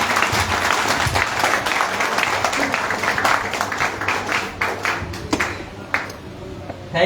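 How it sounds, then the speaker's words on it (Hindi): An indoor audience breaks into sustained applause, a dense wash of many hands clapping that thins toward the end, with a few scattered individual claps. "एक बार जोरदार तालियां बजाएंगे सर के लिए।"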